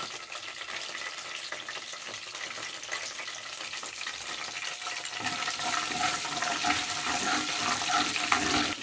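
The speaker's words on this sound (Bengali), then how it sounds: "হালকা একদম ভাজবো। রসুন কুচিগুলো আগে দিয়ে দিলাম" Chopped garlic fries lightly in hot oil for a chilli chicken dish, a steady close sizzle that grows louder and fuller about halfway through as stirring continues.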